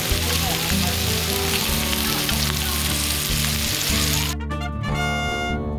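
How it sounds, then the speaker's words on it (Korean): Steady, dense sizzling of meat frying on a hot grill, crackling continuously up close with no talking. "고기 굽는 소리에 군침이 돕니다"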